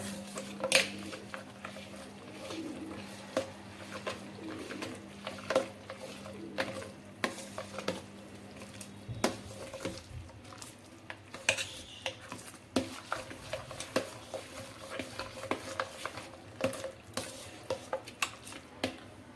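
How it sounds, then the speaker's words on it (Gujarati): Cream being stirred with a spoon in a pan while ghee is made, the spoon scraping and clinking repeatedly against the metal over a soft, steady sizzle with no one speaking. "આ ચમચાની મદદથી આપણે મલાઈને મિક્સ કરી"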